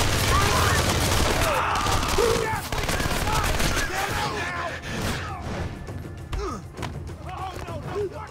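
Gunfire in the video game Splinter Cell: Conviction, dense bursts of automatic fire and impacts mixed with shouting voices and game sound effects throughout.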